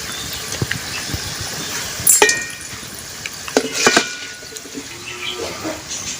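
Lentils frying in oil for dal chanachur crackle and sizzle softly while a utensil stirs, with scattered clinks and scrapes of metal against the pan, fairly close and moderately loud.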